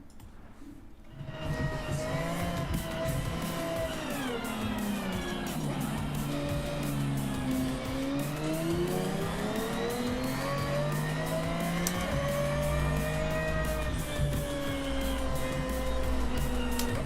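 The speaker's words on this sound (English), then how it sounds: "Hypercar." A hypercar engine revs up after a quiet start, its pitch sweeping down and back up through gear changes in a long, loud continuous roar, with faint squealing mixed in.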